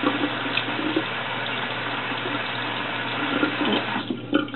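Running tap water splashes steadily as cleanser is rinsed off a face at a sink, a continuous close wash with a few brief stronger splashes near the end.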